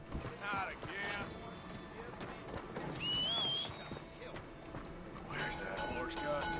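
Rhythmic clip-clop of horse hooves in the video game Red Dead Redemption 2, with clattering mechanical sounds and a brief whinny, busy and close throughout.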